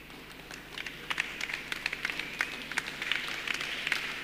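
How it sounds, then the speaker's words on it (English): A church congregation claps during a sermon, a run of distinct hand claps that grows denser and more rhythmic, moderately loud against quiet room tone. "And this is how you clap."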